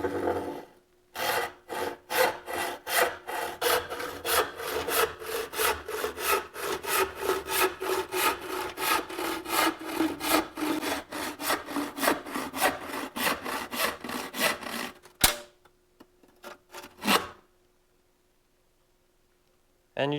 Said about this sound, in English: Got to grab our saw. We got to get to sawing.